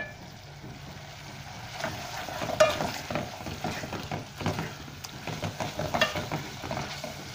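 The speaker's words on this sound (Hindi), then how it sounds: "दो मिनट इसको हम पकाएंगे, ताकि लहसुन का जो कच्चापन है वो ख़त्म हो जाए।" Garlic fries over raised heat in a pan for a Sindhi guar dish, giving a steady sizzle broken by irregular scraping stir strokes, close and moderately loud, with no talk.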